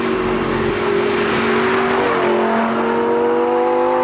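A naturally aspirated Lamborghini V10 with a manual gearbox revs hard and climbs, a loud, high-pitched sharp racing wail that sustains and shifts pitch without any talking.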